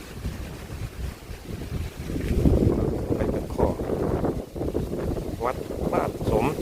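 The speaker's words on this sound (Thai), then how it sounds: "ลมพัดดีอยู่" Dry wind gusting steadily across a rural Isan village in Na Tan district, Ubon Ratchathani, on an overcast day: a continuous low buffeting roar that rises and falls, with faint voices in the background.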